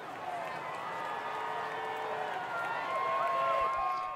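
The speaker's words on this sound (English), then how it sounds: "I'm going to give you a crowd cheer now." A crowd cheer sound effect rises to a steady wash of cheering and applause that swells slightly toward the end, moderately loud and unbroken.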